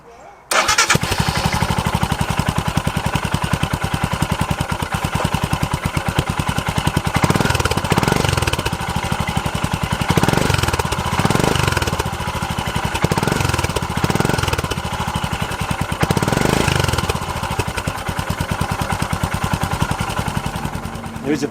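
Royal Enfield Himalayan motorcycle fitted with a Lextek aftermarket exhaust, starting up about a metre away and then idling with a steady, loud, throbbing thump that holds throughout.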